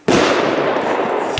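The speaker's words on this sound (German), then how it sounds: "eine 10-Schuss-Batterie namens Feuertraum" A Keller Feuertraum 10-shot firework battery erupts in a sudden loud burst, followed by a dense crackling roar that holds steady for over a second.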